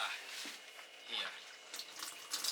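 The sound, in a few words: water running out of a Plastimo 100-liter water bag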